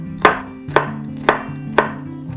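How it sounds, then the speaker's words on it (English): A knife chops two garlic cloves for Sichuan garlic eggplant: four loud, evenly spaced thuds on a board, about half a second apart, each sharp and close, with no voices. "Start by finely chop 2 cloves of garlic."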